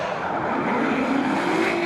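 Loud engine revving from drift cars at a D1NZ drift championship round in Wellington, New Zealand, a steady roar with pitch climbing gradually, close and continuous with no talking.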